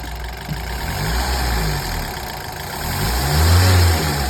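A Mazda car engine with a reported abnormal noise revs in a service workshop, loud and close, the revs rising and falling over a steady running tone, with no talk over it.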